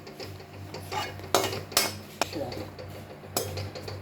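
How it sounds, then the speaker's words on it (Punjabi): Desiccated coconut being roasted in ghee in a pan, with soft scraping and stirring, several sharp clinks of a spoon against the metal and a low background hum, under intermittent talk. "ਹੁਣ ਆਪਾਂ ਨਾਰੀਅਲ ਦਾ ਬਰਾਦਾ ਇਹ ਵੀ ਥੋੜਾ ਜਿਹਾ ਆਪਾਂ ਰੋਸਟ ਕਰਾਂਗੇ"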